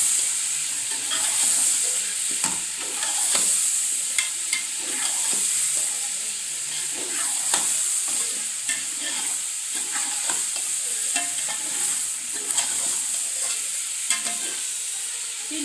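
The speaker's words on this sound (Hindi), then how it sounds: "3-4 मिनट इसको फ्राई करते हैं" Chicken pieces frying with masala in a pan give a close, steady hiss, with frequent scraping and clinking as a spoon stirs them, and no one speaking.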